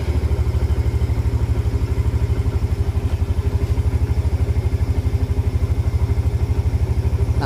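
Yamaha Jupiter Z motorcycle engine idling after starting, a steady rapid low putter with a fine mechanical clatter, close and continuous throughout with no talking.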